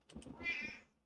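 A cat meows once, close and fairly loud, a drawn-out cry lasting about half a second with no talk over it.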